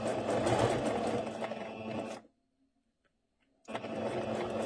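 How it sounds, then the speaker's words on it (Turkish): A sewing machine stitches the pleats of a dress in two steady runs, loud and close, its continuous whir broken by a brief silent pause. "Şöyle pilelerimin dikimiyle başlıyorum."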